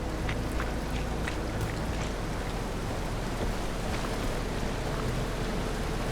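Rain falling in The Caribou Trail video game, a steady, even hiss of water that holds constant throughout with no voices and no distinct drops standing out.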